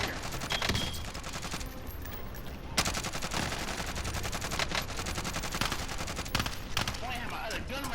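Gunfire in the video game Call of Duty: Modern Warfare, dense machine-gun bursts and scattered single shots running throughout, loud and close, with speech at times.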